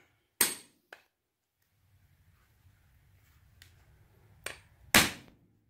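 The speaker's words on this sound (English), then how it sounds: "put the die inside, and hit it with a hammer" A hammer hits a die resting on a brass piece, giving several sharp metallic strikes. A close, loud blow opens the clip, a few quieter taps follow, and a final heavy strike comes near the end over a low background rumble.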